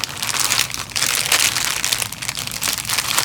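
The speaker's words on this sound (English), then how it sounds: "Close it up tight, just tuck it away in your plastic bag." Plastic bag crinkling as it is closed tightly around air-dry clay, a steady, close rustle with soft crunchy bursts throughout.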